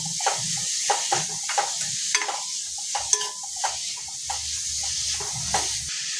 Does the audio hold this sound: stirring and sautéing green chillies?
yes